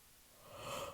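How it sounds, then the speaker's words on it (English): A person yawns alone, a soft breathy intake that swells louder in the second half with a drawn-out exhaled tone, close to the microphone, no talking. "I'm sorry, I have to yawn."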